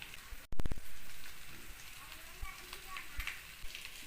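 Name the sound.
sizzling of potatoes frying with garlic and spices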